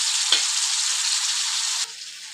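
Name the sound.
stirring cauliflower with tomato and coriander in a pan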